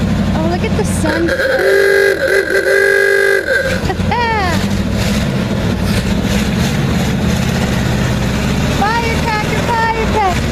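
A 1959 Chevy Viking 60 tow truck sounds a long horn blast, then its engine rumbles at idle with a deep, uneven low drone, while people talk nearby.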